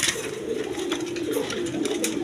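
Rajgolla pigeons, a pair, cooing steadily in a low droning murmur throughout, close and fairly loud, with some faint background noise and no talking.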